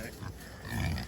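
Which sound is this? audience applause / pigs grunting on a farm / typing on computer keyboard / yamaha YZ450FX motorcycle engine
pigs grunting on a farm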